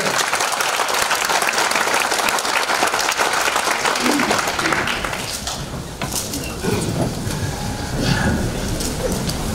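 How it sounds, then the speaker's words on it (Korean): Enthusiastic audience applause welcoming a lecturer to a talk seminar at a natural history museum, a dense roar of clapping that holds strong for several seconds before thinning slightly and continuing. "자, 큰 박수 한번 주십시오"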